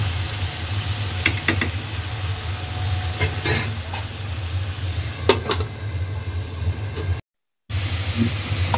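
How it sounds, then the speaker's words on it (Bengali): Meat and spices sauté in a pan over low heat, a steady close sizzle with scattered crackles and a few sharper scraping ticks, with one brief dropout of silence near the end. "এখন লো হিটে ভালো করে একটু ডাইটা কষাই নেওয়া।"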